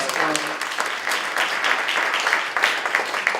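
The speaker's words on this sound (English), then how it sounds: "Let's give them a round of applause." Roundtable attendees at a justice and crime discussion give the speakers a round of applause, a lively crowd clapping steadily for a few seconds with some voices mixed in.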